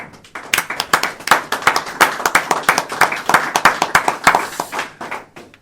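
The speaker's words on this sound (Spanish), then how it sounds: "el primer aplauso de la tarde-noche vamos a darlo a la librería Tercios Viejos" An audience applauds a local bookshop at an evening talk on supernatural chronicles of the Spanish Empire, with dense, steady clapping from many hands filling the room for several seconds.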